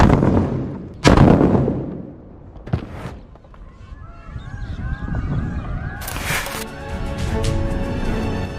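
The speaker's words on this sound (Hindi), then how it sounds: "बहुत सारे रस्सी बमों को एक साथ इस स्कूटी की डिग्गी में रखकर चलाया है" A sharp, loud blast near the start as many rope bombs explode inside a scooter's storage compartment, then a few smaller pops and bangs with crackling and a rising whistling tone toward the end.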